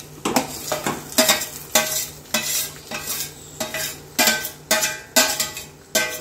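Corn kernel mixture being stirred in a pan on the stove, with a steady series of scraping, clinking spoon strokes roughly every half second over a light sizzle, close and clear with no talking.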